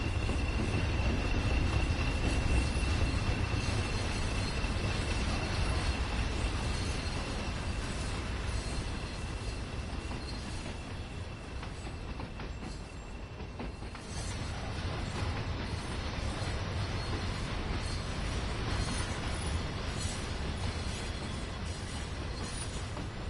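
Class 20 diesel locomotives pass through a station, a sustained loud engine roar and rolling wheel noise that dips slightly midway and then holds steady, with faint squeal and no voices.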